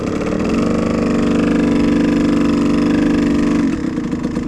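Motorcycle engine ridden by a learner rider, holding a steady loud mid-pitched drone that rises and sustains before easing back near the end, close and without talk.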